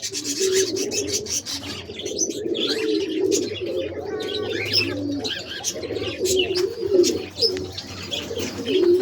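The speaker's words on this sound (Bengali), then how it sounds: "চুরি করে আসতেছে একটা কবুতর এদের খাবার খাওয়ার জন্য" A pigeon coos repeatedly in low, rolling phrases while pecking at cockatiel food, with small birds chirping and tweeting around it and a light rustle now and then.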